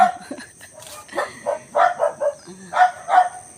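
Several dogs bark repeatedly at a moderate distance, sharp yaps in irregular bursts with short pauses between them.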